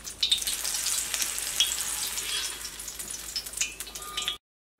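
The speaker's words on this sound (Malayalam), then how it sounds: "ഇനി നമുക്ക് ഇതിലേക്കുള്ള മുളകും കൂടിയിട്ടൊന്ന് വറുത്തിട്ട് എടുക്കാം." Chilies fry in hot oil at a tea-shop style snack stall making samosas, a close, continuous crackling sizzle that runs steadily before cutting off abruptly, with no talk.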